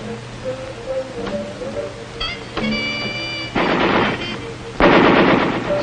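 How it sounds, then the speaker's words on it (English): An M60 machine gun fires on an army machine gun range at Fort Ord, California, with loud bursts of rapid gunfire and booming reports layered with tones and background noise. "We spent a lot of time on the machine gun range with the M60."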